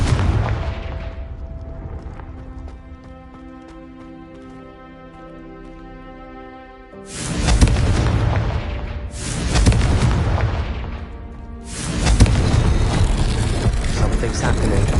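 Confringo blasting spells erupt in Hogwarts Legacy gameplay, with loud booming explosions bursting in three waves over a rumbling musical bed, each blast swelling and decaying before the next.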